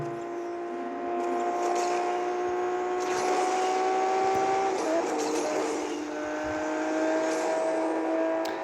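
Aston Martin DB9 coupé in Asphalt 8 racing game, engine droning steadily at high speed with a shift partway through, close and loud, with a brief rushing surge midway.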